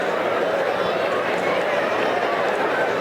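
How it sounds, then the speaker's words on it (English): A steady, dense murmur from a crowd in the stands at a Birmingham Barons minor-league baseball game, continuous and unbroken throughout with no distinct peaks. "you can hear the buzz in the crowd"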